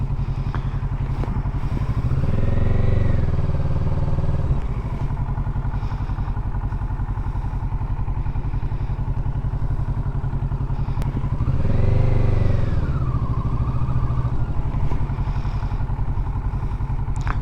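A Kawasaki Z650 motorcycle works through slow U-turns and figure eights, its engine idling close by in a steady low burble, with two brief rises in revs as it pulls round the turns.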